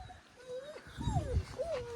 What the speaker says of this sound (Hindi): भाई, पीछे देखो कितने लग गए अब कुत्ते।